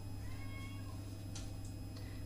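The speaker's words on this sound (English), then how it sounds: "I'm sorry if you keep hearing a cat in the background" Domestic cat meowing in a home kitchen during cookie baking, a drawn-out meow followed by a couple of short faint calls, heard in the background over a steady low hum.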